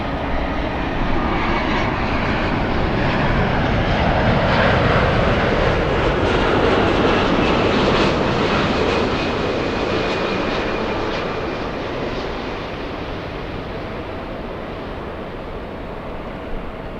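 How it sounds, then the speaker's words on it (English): An Airbus A350-1000 airliner arriving from Haneda passes low over the 405 freeway on its landing approach to LAX. A loud, broad jet engine roar swells, holds, then slowly fades, with no talking. "A350 1000 crossing the 405 freeway. Flying in from Haneda, this one landing"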